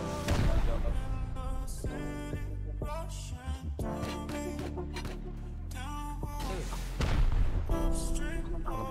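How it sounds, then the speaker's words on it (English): Explosive charges blasting an enemy base's outer wall in the survival game Rust, a run of loud booming detonations and gunfire crowding together under dense game sound and music. "I'm booming their external round."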